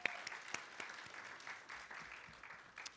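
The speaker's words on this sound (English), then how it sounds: "Let's give a round of applause to the 2023 graduates." A church congregation applauds the 2023 graduates during a Sunday service, modest scattered clapping with a few sharp close claps, fairly quiet throughout.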